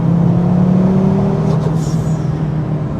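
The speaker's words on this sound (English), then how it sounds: "Sounds like there's two dump valves." Loud, close engine of a 550bhp four-wheel-drive Ford Focus RS holding a steady drone with a rising whine, followed by brief hissing from the dump valves and wastegate.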